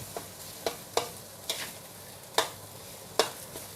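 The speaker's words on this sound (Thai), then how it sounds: "ใส่เกลือไป ไปผัดค่ะ เพื่อให้กลิ่นพริกแกงกระจายกระจาย" Curry paste with salt is stir-fried for a homestyle chicken khao soi: a steady low sizzle broken by about six sharp, close spatula scrapes at uneven intervals, with no talking.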